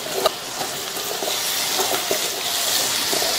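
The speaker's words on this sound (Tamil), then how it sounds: "தீயை கொஞ்சம் கூட்டிட்டு 2-3 நிமிஷத்துக்கு இந்த காலிஃப்ளவரை நல்லா இந்த மசாலாலைய வதக்கி விட்டுக்கலாம்." Cauliflower sautés in masala and oil in a pan, giving a continuous bright sizzle with occasional light stirring taps and no voices.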